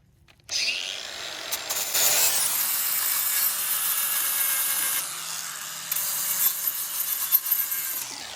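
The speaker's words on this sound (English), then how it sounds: "This isn't made for making cuts at all." An angle grinder fitted with a sanding disc, running on a trailer job, gives a loud continuous abrasive whine and rasp against the workpiece after a short spin-up, steady throughout with slight surges and no talk.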